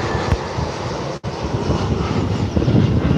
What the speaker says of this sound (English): EasyJet A319 coming in from Alicante, Benidorm.